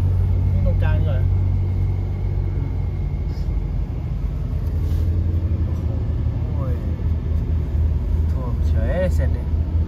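A car drives through deep floodwater on a road in Thailand, with a continuous low engine rumble and road noise under people talking inside the vehicle.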